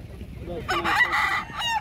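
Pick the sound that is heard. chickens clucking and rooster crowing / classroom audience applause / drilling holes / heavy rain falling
chickens clucking and rooster crowing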